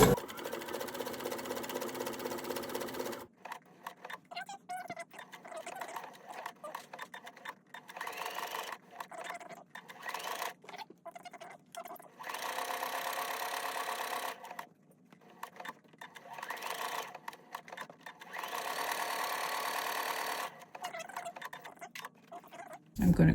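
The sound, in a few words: sewing machine stitching flower appliqué on quilt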